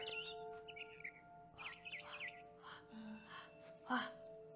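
A barn swallow chirps in the video game What Remains of Edith Finch, several short warbling tweets scattered over a soft ambient background hum, with brief breathy vocal sounds in between.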